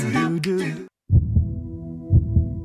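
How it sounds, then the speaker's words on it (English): A healthy heart beats in a slow, steady rhythm of deep, soft thumps, each beat a close lub-dub pair, following a brief burst of music that cuts to silence. "It's a sound we take for granted, a healthy heart beating away."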